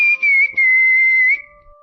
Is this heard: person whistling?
yes